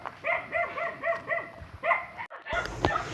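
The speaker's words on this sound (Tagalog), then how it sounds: "Mga aso." Several dogs bark in quick repeated bursts, fairly close, followed by a brief pause and a few more yips and barks.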